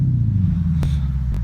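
A Lexus IS F without headers sends out a deep, throaty exhaust rumble during a quick engine rev, a loud, steady low growl with a couple of faint clicks on top.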